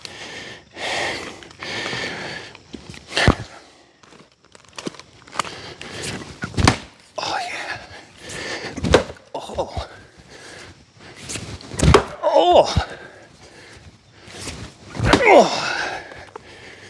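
Heavy Buckin Billy Ray Wood Bullet splitting wedge driven into log rounds, several sharp loud impacts and cracks spaced a few seconds apart, with voices and movement between strikes.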